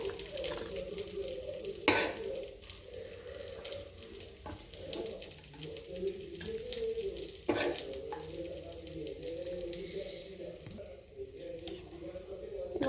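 Fried bitter gourd stirred into onions in a pan, a soft continuous sizzle with scraping spoon strokes and a few sharper clinks, steady and close without any talk.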